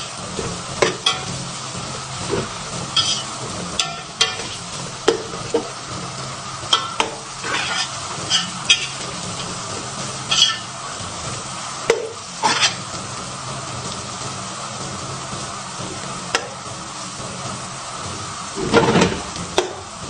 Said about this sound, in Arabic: وابدأ احرك حتى يذبل معايا البصل